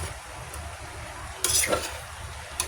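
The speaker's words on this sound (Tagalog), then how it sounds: "Haluin natin guys" Pakbet vegetable stew being stirred in a pot, a few soft scraping and clinking strokes of the spoon against the metal standing out over a low kitchen background hiss.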